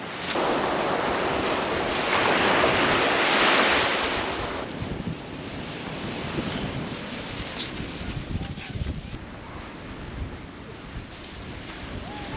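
Surf breaks and washes on a clean beach in the north of Anglesey, a loud broad roar that swells then settles into a continuous rushing wash, with wind noise on the microphone and no speech.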